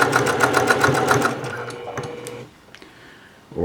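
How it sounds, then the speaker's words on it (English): A sewing machine stitches at high speed, a dense rapid mechanical whir with fine ticking, loud and close for about two and a half seconds before dropping away to quiet background. "One of the things I like about this machine, it will fly just like my industrial machines do"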